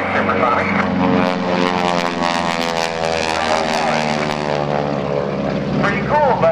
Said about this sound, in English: so there's your supersonic propeller tips, Hamilton standard propellers